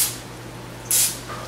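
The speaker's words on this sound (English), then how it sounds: "you're gonna get a loaf, a pan, and you are just gonna spray it lightly" Cooking spray misted lightly onto a loaf pan for banana bread, two short hissing bursts, one at the start and a louder one near the end, with a low steady hum underneath.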